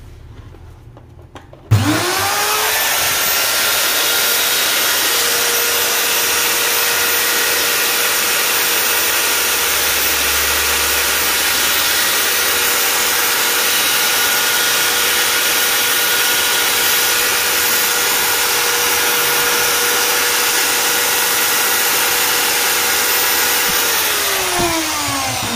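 A DCA 125B long-handle mini angle grinder runs after a repair, starting abruptly and holding a loud, steady high whine for over twenty seconds before winding down at the end.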